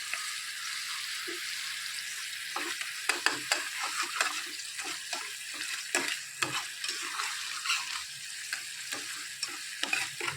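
Bitter gourd is stirred with kasundi mustard sauce in a pan: a steady sizzle under repeated scraping strokes of a spatula, irregular and close.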